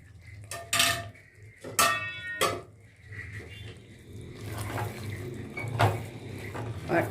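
Fried okra going into cooked-down mutton in a pot, heard as a few sharp metallic clanks and scrapes of a spoon against the pot, then softer stirring and shuffling at close range, with no talking.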